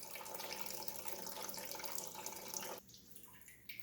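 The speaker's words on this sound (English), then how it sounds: "So we'll call this step 1, draining the petcock there." Coolant pours steadily from the opened radiator petcock on a John Deere 445 lawn tractor, a continuous close splashing stream that cuts off abruptly near the end, leaving a quiet trickle.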